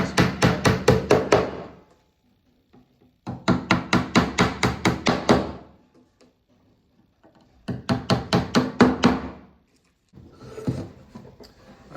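A hammer drives nails into an OSB roof board on a timber beehive nuc, with three quick runs of sharp, evenly spaced blows, about eight to ten each, close and loud with short pauses between, then a softer final run.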